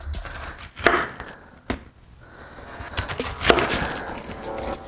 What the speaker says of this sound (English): So let's cut it into some pieces.